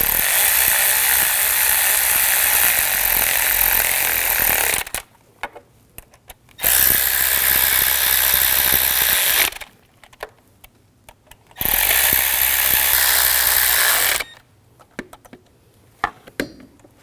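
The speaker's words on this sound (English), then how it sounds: "Tighten down the bolts." A ratchet or power driver tightening bolts on a 2001-2009 Volvo S60 during ignition coil boot work, loud sustained whirring in three long bursts separated by quiet pauses.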